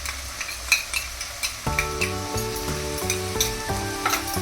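Ginger-garlic paste stirred into softened tomatoes frying in a pan for pav bhaji, with steady close sizzling, scraping spoon strokes and clinks, plus a sustained tonal hum joining partway through.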